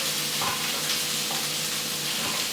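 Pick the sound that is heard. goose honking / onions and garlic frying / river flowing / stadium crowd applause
onions and garlic frying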